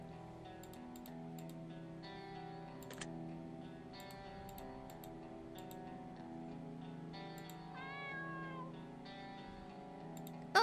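A cat meows in a video game over a looping, sustained musical score with ticking, clock-like accents; the meows are brief and sit under the music rather than standing out loudly.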